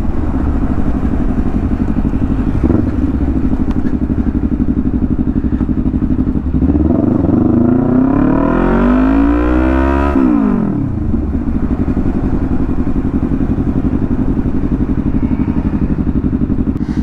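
A Yamaha sport motorcycle, an MT-03 or R3, rumbles steadily, then revs hard as it passes close by with a rising and falling engine whine before settling back to a low steady drone.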